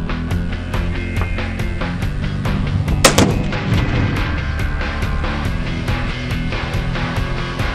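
A one-pound exploding target detonates when shot, a single sharp loud blast in the middle over a steady rumbling background with regular faint ticking.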